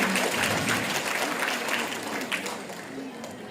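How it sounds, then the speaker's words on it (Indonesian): A crowd claps steadily for a few seconds, dense and lively applause that slowly fades, with faint voices mixed underneath. "Tepuk tangan buat Bunda kita."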